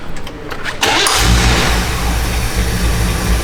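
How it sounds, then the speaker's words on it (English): A 1961 Chevrolet Impala Bubble Top cranks briefly before its engine catches almost at once and settles into a loud, deep, rumbling idle that carries on steadily to the end. "Car fires right up."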